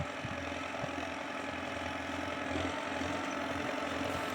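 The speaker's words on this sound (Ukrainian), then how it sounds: "Трактор йде легенько, там він нагрузки майже не відчуває." A tractor pulling harrows during field cultivation runs under light load, a steady, low engine drone running continuously, with a faint rhythmic knock underneath and no voices.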